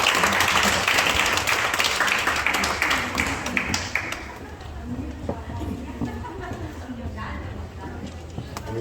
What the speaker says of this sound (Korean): 박수로 맞이해 주십시오